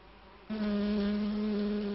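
After a moment of quiet, a steady insect buzz starts abruptly and holds, a close, droning hum of bees.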